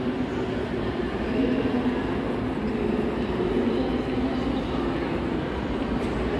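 Trains run through a multi-level Berlin station with platforms on several floors, giving a steady broad rumble and rolling wheel noise that holds an even, fairly loud level throughout, with no clear voices.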